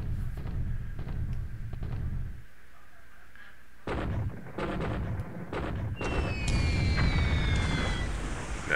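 Bomb blasts and gunfire rumble in a WWII Pacific naval strategy game, with heavy low booms in bursts, a short lull, then more blasts and whistling, falling tones.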